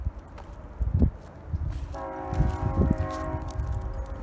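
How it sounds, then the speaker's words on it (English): A train approaches, its horn sounding as a sustained tone midway through over rumbling and a few low thumps, moderately distant. "I think you can hear the train now."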